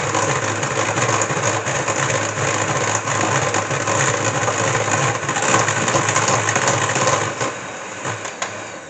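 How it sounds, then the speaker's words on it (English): Electric mixer on its highest speed whisking eggs and sugar for a Swiss roll sponge, a loud, steady motor whir with a beating rattle that runs continuously for about nine seconds and eases slightly near the end. "So I've only just started whisking this."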